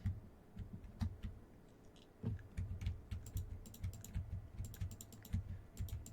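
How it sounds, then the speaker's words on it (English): Someone types on a computer keyboard, a steady run of close, soft key clicks in irregular bursts with a brief pause near the start, and no voices. "this is a very powerful keyboard"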